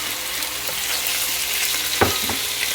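Pork and onions sauteing in a pan, a steady close hiss of frying with a couple of brief stirring scrapes and knocks near the end.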